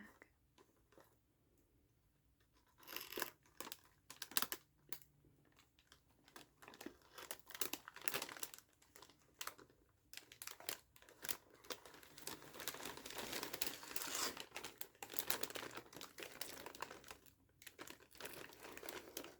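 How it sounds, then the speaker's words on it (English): Close, steady crinkling of a plastic bag of jigsaw puzzle pieces being handled, in irregular bursts that grow busier toward the end, with no talking. "All of our puzzle pieces in this nice plastic bag."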